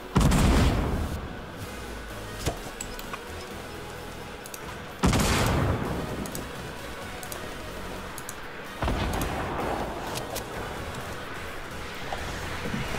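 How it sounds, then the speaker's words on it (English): Gunfire in the video game Fortnite, a 50v50 battle royale match: dense, distant crackling shots and booming blasts pile up in three loud waves, with constant background noise and no talk. "everyone is shooting at this thing"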